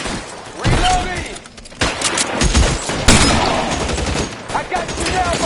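Sustained gunfire in L.A. Noire, loud and close, with dense bursts and rapid volleys of shots rolling through the whole stretch, broken by short lulls.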